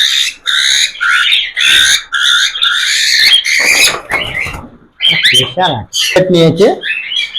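Cockatiels calling loudly at close range, harsh repeated squawks and chirps in quick bursts, with someone talking over and between them.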